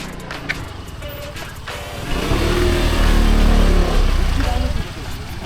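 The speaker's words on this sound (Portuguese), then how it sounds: "No meio dessa ruela, uma moto passando." A motorcycle rides through a narrow alley, its engine swelling loud and close as it passes and then fading away, with a voice speaking over parts of it.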